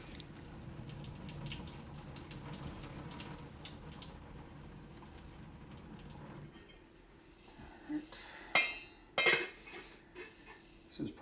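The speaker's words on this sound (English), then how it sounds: "draining it without losing the noodles" Cooked pasta noodles being drained at a sink: a steady rush of pouring water fills the first six seconds, then gives way to a few sharp clatters and splashes of pot and strainer.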